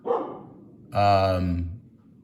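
A single dog bark rings out close by indoors, preceded by a brief softer yip, with a quiet room behind it.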